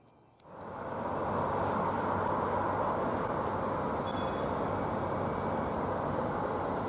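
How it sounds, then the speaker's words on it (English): A new tram-train on the Sheffield line running out to Rotherham from Cathedral rolls past, a steady broad rumble that swells within the first second and holds loud and continuous, with faint higher tones creeping in later. "So this is the new train tram which they run out to Rotherham from Cathedral."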